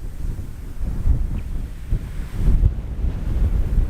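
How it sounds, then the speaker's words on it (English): Gusty wind on an open prairie buffets the microphone in loud, low, rumbling surges that rise and fall continuously, with no voices. "It looked sunny, and the day was actually kind of pleasant, except there was that wind."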